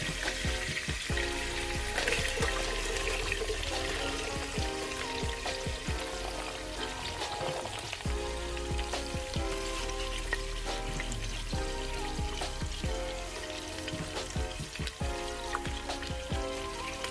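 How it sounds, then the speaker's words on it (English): Onions sizzling and frying in a pan for a copycat Olive Garden Zuppa Toscana soup, a steady loud crackle with scattered stirring clatter and scrapes throughout, no voices. "now what we're going to do is add our onions"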